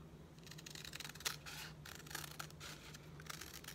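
Scissors cutting through hard cover journal material, a soft continuous snipping and rubbing with one sharper snip partway, close and fairly quiet over a steady low hum, no talking.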